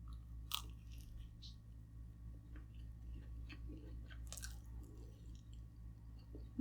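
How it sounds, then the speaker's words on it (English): Quiet crunchy bites into flaky chicken empanada pastry, a few sharp crackles followed by soft close chewing over a low steady background hum. "the pastry is really flaky and light. This is good empanadas."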